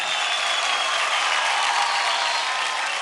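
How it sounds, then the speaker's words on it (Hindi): A studio audience on a TV dance show claps steadily, with dense, even applause filling the whole stretch without letup. "जबरदस्त जोरदार ताली हो जाए"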